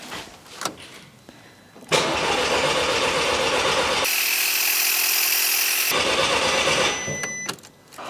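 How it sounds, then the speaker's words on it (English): A VW Golf Mk5 GTI engine cranking over on the starter with its ignition coils disconnected, a loud steady churning for several seconds with brief clatter before and after, no voices. "I'll turn it over with the coils disconnected, and that'll enable the fuel pressure to build up a little bit as well."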